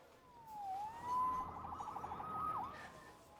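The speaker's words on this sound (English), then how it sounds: "Saved by the siren." A police siren wails in the video game Marvel's Spider-Man, rising and falling at moderate distance with a brief fast yelp in the middle, over low background ambience.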